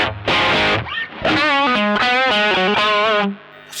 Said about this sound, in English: And then adding the overdrive in parallel.